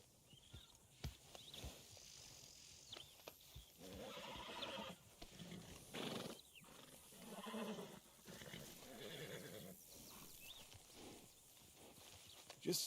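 A horse in Red Dead Redemption 2 whinnies and snorts quietly in an open-world game scene, with a faint clip-clop of hooves and rustling movement. The calls come in short bursts over low background ambience.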